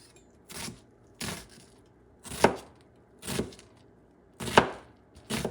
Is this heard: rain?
no